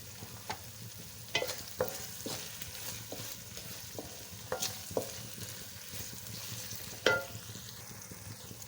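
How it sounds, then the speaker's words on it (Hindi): Chopped tomatoes frying and being stirred in a pan, with a steady low sizzle broken by scattered clinks and scrapes of a utensil against the metal, close and moderately loud, no talking. "अब टमाटर को हम थोड़ा सा पका लेंगे।"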